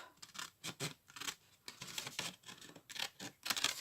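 Scissors cutting paper for a handmade road book, a series of crisp, close snips and rustles in uneven bursts, with no talking.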